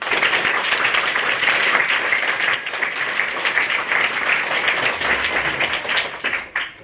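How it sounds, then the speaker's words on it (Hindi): An audience at a rationalist gathering in Surat, Gujarat, claps hands in steady, dense applause for several seconds, loud and continuous before tapering off at the end. "बजाइए एक बार ताली"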